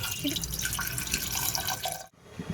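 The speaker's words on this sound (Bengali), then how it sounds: "এর মধ্যে জল দেব জল দিয়ে এটাকে একটু পাতলা করে নেব" Water poured into a pot of cooking dal to thin it, a steady close splashing gush that stops abruptly near the end.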